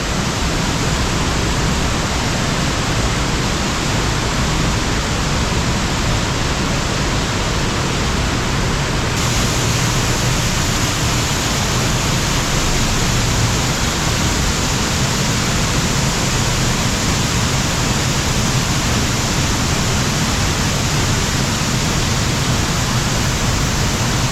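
The Principe Umberto waterfall in Val del Piero roars in a steady, powerful rush of white water, loud and unbroken throughout with no voices.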